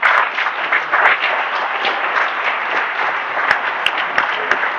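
An audience at a tribute to Asturian international handball players applauds Chechu Villaldea with steady, dense clapping from a large room, holding at an even level with a few sharper claps standing out.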